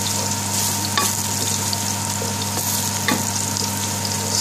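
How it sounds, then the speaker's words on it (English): Garlic sizzles in hot vegetable oil in a pan, giving a steady hiss and crackle close by. A few brief scrapes or stirs break in, and nobody speaks. "then you put the garlic to sizzle it."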